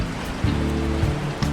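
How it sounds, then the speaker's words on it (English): Heavy cartoon rain pours steadily as a dense, continuous wash of hiss with a few louder splashy swells, with no voices over it. "Heavy rain is pouring."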